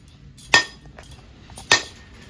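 A hard, mature coconut is cracked open in a home kitchen: two sharp, loud knocks about a second apart with faint handling in between.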